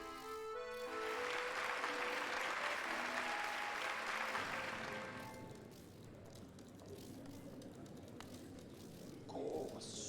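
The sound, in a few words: crowd applauding in the video game Hollow Knight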